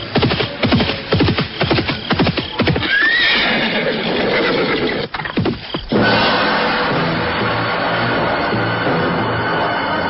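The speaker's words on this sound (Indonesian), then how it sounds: "telinganya menangkap derap kuda makin lama makin dekat." Radio-drama sound effect of a horse galloping closer, with loud rapid hoofbeats followed by a shrill neigh, then a fading rumble as the riding sound trails away.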